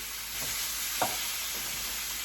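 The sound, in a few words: chicken pieces sizzling under a grill press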